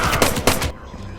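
Jacqueline suddenly opens fire in the film Mercy, a loud burst of rapid, closely spaced gunshots, three or so harsh cracks in under a second, that cut off abruptly and leave a low rumbling tail.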